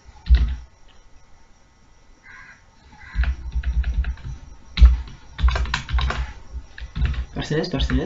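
Computer keyboard keys clatter in quick bursts of typing while entering C code, pausing briefly between runs of keystrokes, with a voice speaking over parts of it.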